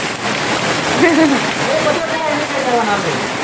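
Steady splashing of heavy rainwater pouring off a flat rooftop, like a heavy stream falling onto a surface, with a voice talking over it.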